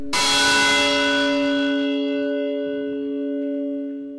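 A large church bell of the Basílica Menor San Juan Bautista in Girón, Colombia, struck once loud and near, its bright clang settling into a long humming ring that slowly fades, alone.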